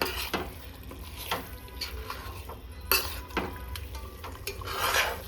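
A spoon scrapes and stirs chicken with turmeric in a cooking pot for biryani: steady rubbing and metallic scraping strokes with a faint sizzle underneath, close and continuous, no talking.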